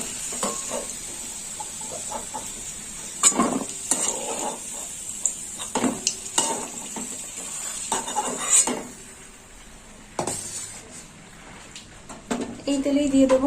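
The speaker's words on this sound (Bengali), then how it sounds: "আলুটা একটু ভাজা হবে। ভাজা হয়ে গেছে" Potatoes fry in oil with a soft sizzle, under repeated clatters and scrapes of a spatula against the pan, and a few voices or short bursts of speech now and then.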